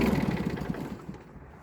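A small Yanmar AF170 17 hp tractor engine runs with a low, steady chugging rumble, close by, fading slightly toward the end.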